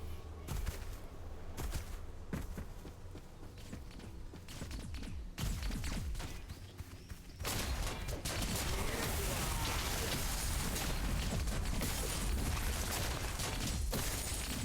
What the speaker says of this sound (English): It's my cannon.